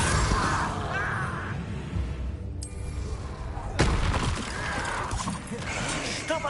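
A disarming spell is cast during combat in Hogwarts Legacy, a rough whooshing burst set against clanking mechanical game effects with a sharp impact partway through.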